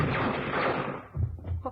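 A rifle burst fired at a man's chest in a staged drill, heard as a loud, dense blast that rings out for about a second before a lower thud and a brief voice follow.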